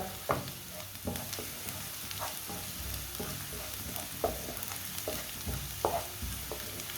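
Onions fry and sizzle in a pan with a steady crackle. Occasional clacks and scrapes come from stirring. No one speaks.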